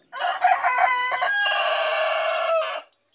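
A rooster crows loudly and close by in one long sustained call, with clucking chickens among a small group of farm animals.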